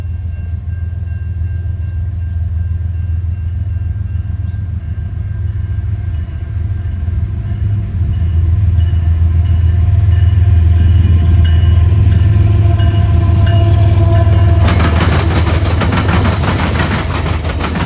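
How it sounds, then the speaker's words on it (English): CN northbound freight train with a BCOL heritage locomotive passing: a loud, sustained low diesel rumble that swells as it nears, with steady wheel and car noise and a rising rattle toward the end. "Northbound CN either M341 or M343, with CN 3115, the BCOL heritage locomotive,"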